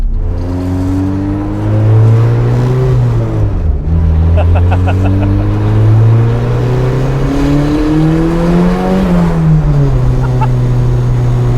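A turbocharged Honda K-series engine in a 1966 Ford Mustang pulls hard through the gears, each rising whine of acceleration broken by a shift, loud and close with faint turbo chatter between pulls.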